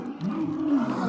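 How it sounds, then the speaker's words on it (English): A rescued former circus tiger lets out a single loud, drawn-out roar close by, rising and holding steady for about a second with no talk over it. "Here is Hoover, the tiger"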